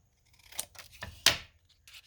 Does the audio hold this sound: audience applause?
no